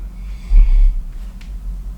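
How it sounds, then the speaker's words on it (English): A sleeping person snoring, one low rumbling snore near the middle of a quiet passage, close and fairly loud. "it's sleeping, snoring."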